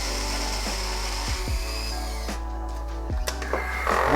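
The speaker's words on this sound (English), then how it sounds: "I put it in my flex shaft and I start cutting out the seats." A flex shaft fitted with a carbide round bur cuts stone seats into silver, giving a steady high motor whine with short grinding bites as the bur touches the metal, close and alone.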